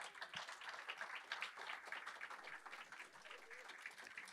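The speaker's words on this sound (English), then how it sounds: "Let's give them a round of applause" An audience at a medal awards ceremony dinner applauds, with dense, steady clapping from many hands sustained throughout and heard at a moderate distance in a large room.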